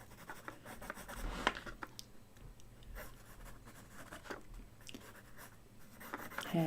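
A water-soluble watercolour pencil scratches across a journal page in short, uneven strokes, close and quiet, with scattered rubbing between lines.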